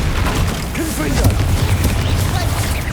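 Confringo fire spell blasts in Hogwarts Legacy come as loud low booms and crackling bursts, with a voice talking over the rumbling impacts throughout.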